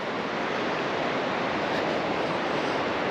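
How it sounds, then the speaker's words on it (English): Rapids on a river at Tyne Green Country Park in Hexham, a continuous broad rushing roar close by and unchanging throughout. "Some rapids down here."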